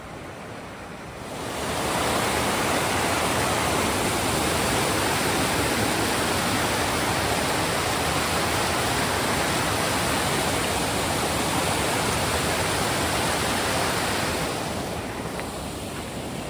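Water pours steadily through a clogged filter choked with leaves and twigs, a loud, continuous rushing hiss that swells in and runs on alone before easing slightly at the end.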